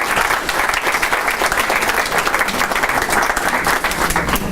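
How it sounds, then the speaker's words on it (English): Audience applause for the Council on Aging at a Meet the Candidates event, loud, dense clapping from a room full of people, close and sustained without any talk. "Just want to give them a round of applause for making this."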